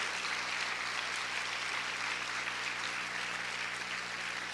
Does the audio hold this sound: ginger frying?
no